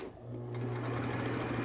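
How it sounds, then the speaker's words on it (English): A sewing machine runs steadily, stitching a straight 3/8 inch seam on a fabric cap (a courage cap or doo-rag), a close continuous mechanical hum with a faint voice in the background. "So you just line it up and sew a nice straight stitch."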